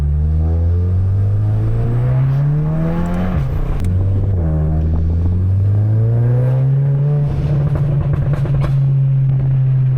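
A Volkswagen Amarok drives on a test drive, its engine rising and falling in pitch through a few shifts, loud and close, with a steady drone and no talking.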